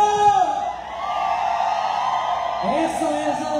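A drawn-out Mexican grito yell rings out at a live norteño-style concert in San Pedro y San Pablo Ayutla, Oaxaca, a long whooping cry over music and crowd noise, joined by another shout near the end.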